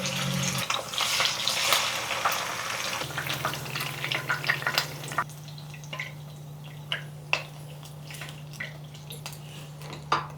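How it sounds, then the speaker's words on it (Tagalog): A thickly cut pork chop fries in a pan, giving a steady sizzle with scattered sharp pops and spits over a low constant hum. "Ang tagal ko tuloy itong ipipirito."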